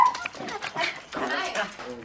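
A puppy gives high, thin whimpers and short yips close by, mixed with a person's talking over the brief exchange.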